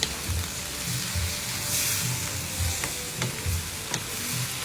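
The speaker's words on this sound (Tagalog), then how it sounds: "At ngayon, hahaluin ulit natin para maging pantay ang lasa ng ating niluluto." Beef and vegetables sizzle loudly in a pan while a utensil stirs in a steady rhythmic scraping, repeating about twice a second over the continuous frying hiss, close up and without talk.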